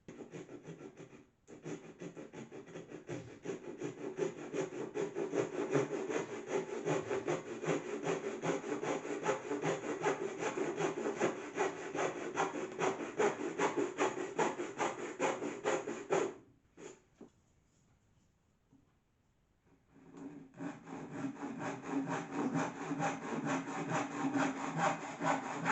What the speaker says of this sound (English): the saws are cutting so much better now